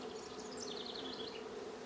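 Honey bees buzzing steadily at a strong hive, a dense continuous drone with individual bees whining past close by, no voices.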